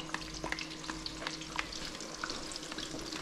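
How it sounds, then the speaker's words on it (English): Potato stew with cream, paprika and margarine is stirred in a sizzling pan, giving a steady frying crackle with repeated scraping strokes of the spoon, close and fairly quiet with no talk. "And mix this up."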